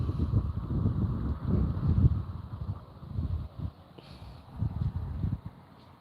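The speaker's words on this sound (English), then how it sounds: "Man, it's really windy now." Wind gusts roar and buffet against the microphone in low, uneven surges, with a faint rustle of trees underneath and no talking.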